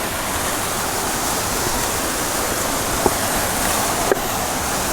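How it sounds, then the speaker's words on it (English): Small waterfall at Cueva del Choco in Colombia, its water running muddy, gives a steady, close rushing roar that fills the whole span, with two faint knocks late on. "little waterfall."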